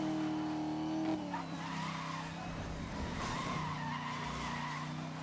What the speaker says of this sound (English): Beautiful drifting, Zachary.